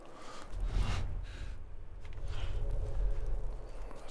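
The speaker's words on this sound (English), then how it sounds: "You can just hear Joel's like, the way he's like breathing." Heavy, labored breathing from a character in the video game The Last of Us, a few loud gasping breaths and exhales close up, with faint shuffling movement underneath.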